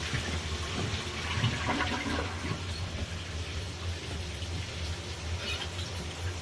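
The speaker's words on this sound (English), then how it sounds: "Flush the toilet goes way down, right?" Household toilet being flushed during a home water-pressure fix, with steady rushing water throughout and no speech.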